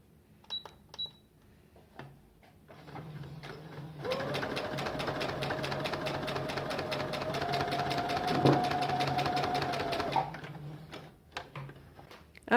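A domestic sewing machine runs a test seam on leftover fabric, its rapid steady motor whir and needle ticking starting after a few soft clicks, holding for about six seconds close up, then stopping, with no talking.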